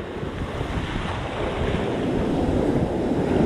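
Rough ocean surf at Huntington Beach, California, rumbles in a continuous, broad wash, with wind buffeting the microphone and the roar swelling slightly louder toward the end; no voices are heard.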